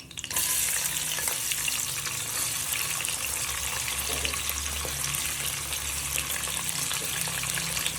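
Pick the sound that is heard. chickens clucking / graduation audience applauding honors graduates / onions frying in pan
onions frying in pan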